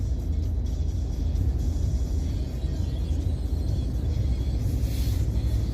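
Heavy road traffic rumbles steadily at a flyover at the diversion road crossing, a dense, continuous low roar of passing vehicles with no voices.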